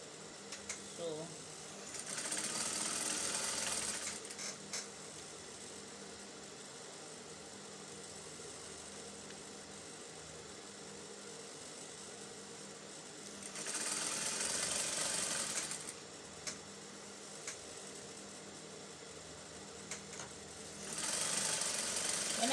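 Sewing machine stitching a seam on a kaftan maxi dress, running in three rapid buzzing bursts separated by quieter pauses, close and fairly loud, with no talk over it.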